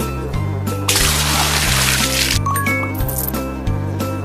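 A burst of rushing, sloshing water rinses hair in a children's summer-camp care game, a loud spray lasting over a second before fading into chimes over a steady looping music track.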